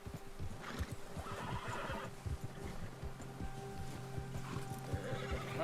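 Horse neighs and whinnies over steady clip-clop hooves while being ridden in a hunting video game, the hooves thudding in a continuous rhythm with a couple of whinnies rising above them, fairly close and loud throughout.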